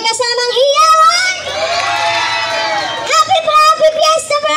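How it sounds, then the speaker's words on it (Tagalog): A fiesta concert crowd at a barangay celebration cheers, whoops and shouts loudly and continuously, with a voice over a microphone rising above the roar at the start and end. "wala bang palakpakan dyan na may kasamang hiyawan?"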